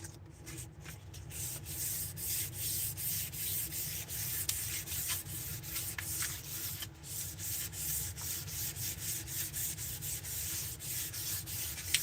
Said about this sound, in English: gonna keep sanding it on this side